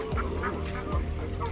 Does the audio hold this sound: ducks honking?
yes